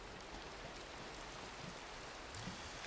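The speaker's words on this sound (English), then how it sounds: "I will be back when the rain stops." Steady rain falls in a survival video game, a soft, even hiss of drops that stays faint and continuous throughout.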